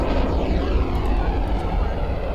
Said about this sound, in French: J'entends l'avion qui arrive.